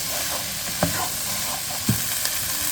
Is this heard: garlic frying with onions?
yes